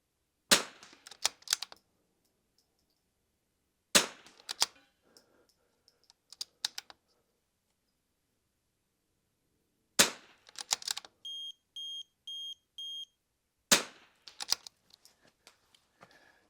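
Sharp rifle reports ring out at an NRL22 rimfire shooting match, in four separated bursts of several rapid cracks each, loud and close with quick ringing decays, and a brief run of electronic beeps between the later shots.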